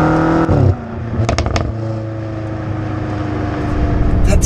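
A BMW M5 Competition V8 revs hard with a loud crackling burst at the start, then settles into a steady throaty idle that swells slightly toward the end.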